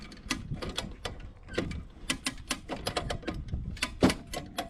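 A ratchet strap hooked to a tree is cranked on a Polaris Sportsman 6x6 frame repair, giving quick uneven bursts of clicking pawl ticks close by, with brief pauses between strokes.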